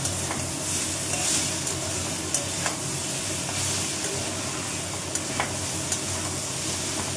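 Chow mein noodles are tossed and stir-fried in a hot pan with egg, onion, tomato and green chilli, giving a continuous loud sizzle broken by occasional scraping clanks of the spatula, close up with no talking.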